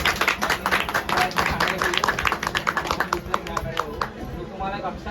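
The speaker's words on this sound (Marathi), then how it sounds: "सगळ्यांनी टाळ्या वाजवा" Audience clapping at a Bhim Jayanti community game show, a dense run of hand claps that holds steady for several seconds with crowd noise mixed in.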